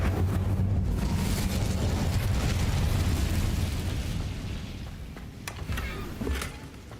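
A fire spell cast in the game Hogwarts Legacy: a loud, sustained roaring whoosh of flame that holds steady for about four seconds, then fades. A few sharp crackles and pops follow near the end.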